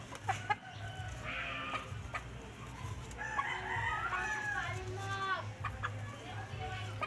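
White Kelso rooster crowing several times amid steady clucking from a flock of chickens, close and clear, with someone talking over the birds.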